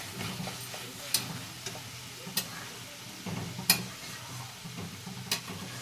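Cumin and Kashmiri chili powder stirred in hot oil for an egg curry, giving a soft steady sizzle under a spoon that scrapes and taps against the pan every second or so.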